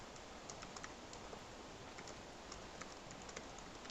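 Steady, fairly quiet keyboard typing while coding a Java prime-number method, with irregular clusters of light key clicks running throughout and no voice.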